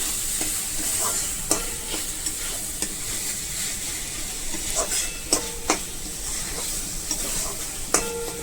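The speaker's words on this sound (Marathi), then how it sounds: "सर्व एकत्र करून घ्यायचं आहे" Raw corn kernels with salt sizzle steadily in a pan while a utensil stirs, scraping and tapping against it at irregular intervals.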